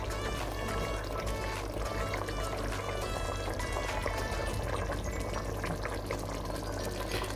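Water pours steadily into a pot of mutton korma, a continuous loud splashing rush that fills the whole stretch without pause.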